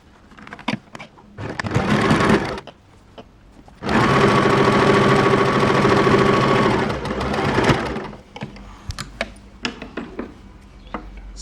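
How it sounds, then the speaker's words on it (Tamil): A sewing machine stitches a straight seam in two loud, close bursts of rapid whirring: a short run, then a longer steady one, with handling clicks between. "ஸ்ட்ரைட்டாக அடிச்சுக்கோங்க ஒரு தையல்."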